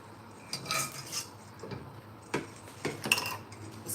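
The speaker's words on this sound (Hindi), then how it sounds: "अच्छी तरह से कढ़ाई को मैं साफ कर लेती हूँ इस तरह से।" A kadhai being scrubbed clean in a home kitchen, with metal utensils clattering and scraping in several separate bursts, close and moderately loud, with no voices.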